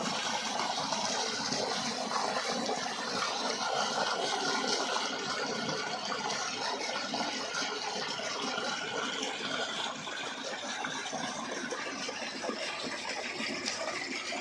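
Water pours steadily out of a pipe at a small turbine setup, a continuous rushing gush heard without any voices.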